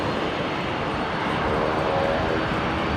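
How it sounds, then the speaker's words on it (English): A Link Airways Saab turboprop arrives at Brisbane airport, its engines giving a steady, broad rumble with a slight swell toward the end, heard alone without voices. "Link Airways Saab coming in here"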